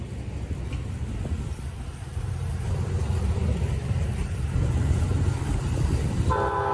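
A freight train rumbles past at close range, its heavy rolling roar building louder, before the horn sounds a short, loud multi-tone blast right at the end.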